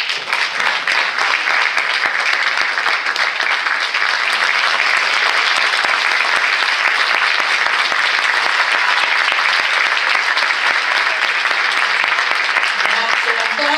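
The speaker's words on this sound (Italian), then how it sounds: "ancora un applauso" Loud, sustained applause from a large theatre audience at a Neapolitan song show, steady and dense throughout with no break.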